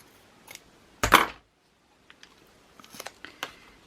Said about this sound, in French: Je coupe le ruban au milieu.